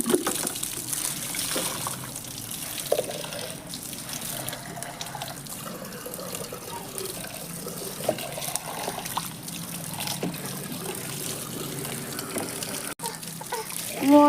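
Tap water runs steadily into a filling container, a continuous close trickling and splashing stream that carries on for the whole stretch with little change in level.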